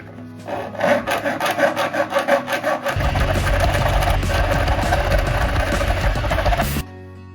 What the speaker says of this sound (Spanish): Primero vamos a limar lo que son las tachuelitas estas, las puntas, lo vamos a hacer con esta lima